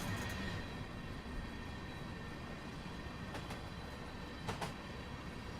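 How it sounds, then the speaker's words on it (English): Freight train wheels roll steadily in Train Simulator 2017, a constant low rumble with faint rail hiss and a couple of soft clicks, distant and quiet, with no talking. "Even those wheels are starting to pitch up in noise."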